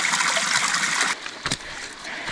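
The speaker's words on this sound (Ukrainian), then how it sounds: "Навіть маленький є цей водоспадик" A small mountain waterfall on Menchul in the Carpathians trickles with a steady, close hiss of running water, then drops to a quieter flow with a brief splash.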